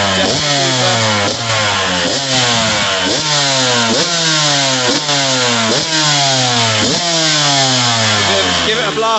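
A 2020 KTM 125 SX two-stroke dirt bike fitted with an FMF shorty exhaust revs hard and loud nearby, rising in about nine repeated rasping, buzzy sweeps.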